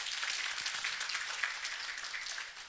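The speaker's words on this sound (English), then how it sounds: "Round of applause for Dr. Martin, please." Steady applause from a graduation ceremony audience for a global health leadership fellowship, a dense even wash of clapping that holds for a few seconds with no talking over it.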